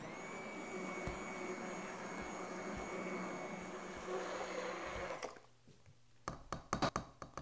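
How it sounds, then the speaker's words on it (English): A small hand blender purees garlic soup with a steady, loud motor whir for about five seconds, then cuts off, leaving sharp clicks and knocks of the blender against the pot. "So today I'll just use a little hand blender."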